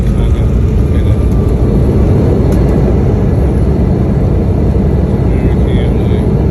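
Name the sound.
airplane cabin noise while landing at Chicago O'Hare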